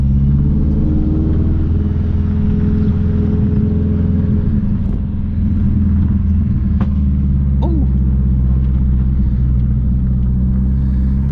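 A boosted Honda CR-V engine hums steadily in a loud, constant low rumble while driving, with little change in pitch across the stretch.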